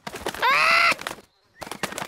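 A cartoon parrot from a Peppa Pig episode gives a loud, squawking, drawn-out call, followed by a short pause and a bit more chatter.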